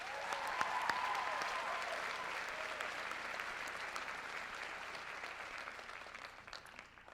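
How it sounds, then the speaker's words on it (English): An audience applauds an a cappella group named Notorious at a university presidential inauguration, steady broadband clapping throughout that fades slightly toward the end. "How about another round of applause for our a cappella group, Notorious?"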